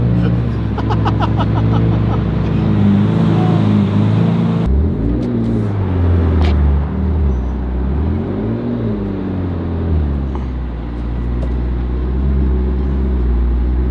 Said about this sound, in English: Look at this, Dave parking his first Aventador